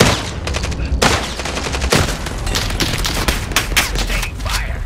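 Heavy incoming gunfire, a dense, continuous barrage of overlapping shots and impacts with sharp cracks standing out, loud and close throughout.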